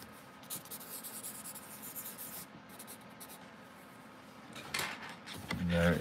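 A Blackwing pencil scratches across lilac paper in a sketchbook in continuous, close, rhythmic strokes. Louder page and handling noises come near the end.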